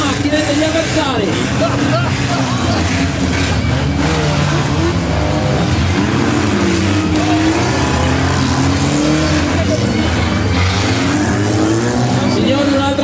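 Demolition derby cars in an arena at Ceresara rev their engines and ram each other, roaring and droning steadily for several seconds over crowd babble and an announcer's voice.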